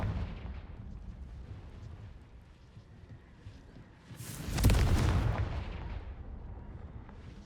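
In Hogwarts Legacy, the Confringo fire spell goes off as a single booming burst that swells and fades over a couple of seconds, set against quieter game ambience.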